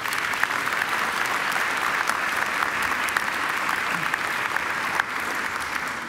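A large audience claps without a break through a round of applause at a Macquarie University graduation ceremony, dense and steady with a small dip near the end.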